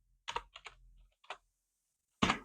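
Computer keyboard typing a command: a few quick close keystrokes in short clusters, a pause, then one firmer final press, alone and quiet.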